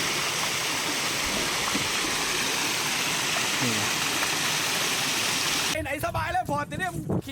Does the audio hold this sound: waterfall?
yes